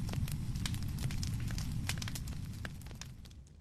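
A cartoon wildfire roars steadily with low rumbling and scattered sharp crackles, loud throughout and easing slightly toward the end, with no voices.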